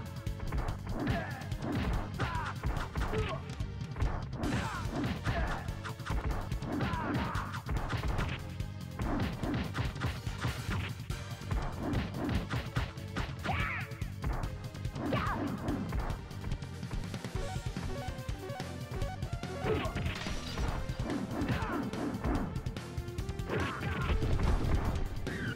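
Repeated smashing and whacking of breakable background objects in the side-scrolling action game The Ninja Saviours, dense crashes and thwacks over loud continuous game music throughout.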